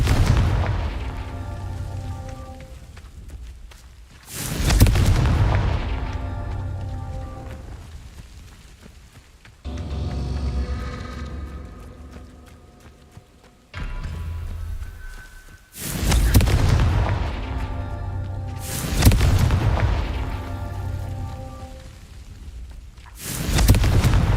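Confringo fire-blast spells in Hogwarts Legacy land as repeated loud, deep booming explosions with rumbling decay, about five blasts spaced a few seconds apart over a low ambient hum.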